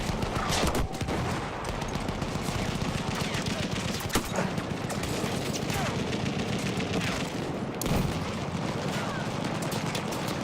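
Enemy machine gun fire in the Battlefield 1 game, Brusilov Offensive map: sustained, loud automatic bursts with scattered heavier booms and explosions, dense and continuous throughout.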